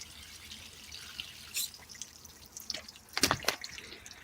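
Water splashes and drips into a potted plant at a garden center during hot summer watering, a few short wet bursts near the end over a quiet outdoor background.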